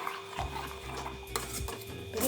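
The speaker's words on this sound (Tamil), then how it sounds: "கொஞ்சம் நல்லா வெந்து கெட்டியாக வரணும், அது வரைக்கும் கிண்டி விட்டால் போதும்." Thick pearl millet porridge (kambu koozh) is stirred in a pot: soft scraping and occasional knocks of a ladle against the metal, fairly quiet and close, with a faint steady hum behind and no speech.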